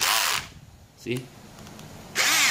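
Cordless drill with drill, screw and hammer settings whirs in two short high-pitched bursts, revving then stopping, with a brief spoken word in the quiet gap between them.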